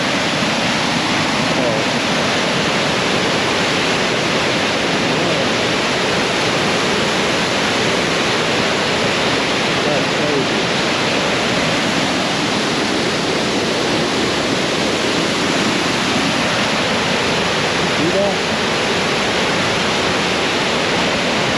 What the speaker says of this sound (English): you can hear the like pounding of the water